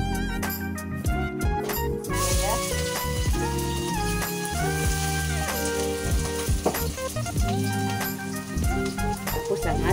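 Onion frying in a pan for an eggplant omelette, a steady sizzle under bright tonal background music with no pause.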